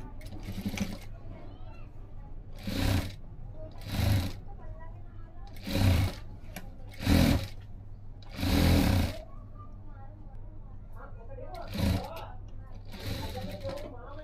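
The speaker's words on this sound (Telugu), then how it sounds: "ఈ క్లాత్ని ఈ విధంగా లోపలికి మడిచి ఈ పైన స్టిచ్ చేసుకోవాలి" A sewing machine stitches down a folded cloth hem in short separate bursts of rapid whirring, about eight runs over a low steady hum, with a voice speaking between them.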